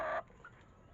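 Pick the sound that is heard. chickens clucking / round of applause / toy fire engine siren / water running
chickens clucking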